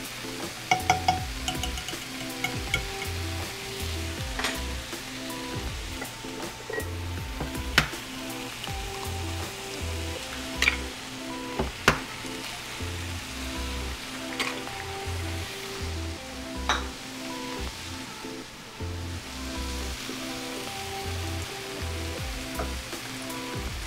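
Eggs fry over easy in a pan, a steady continuous sizzle with small pops and crackles running loud and close throughout, with no voices over it.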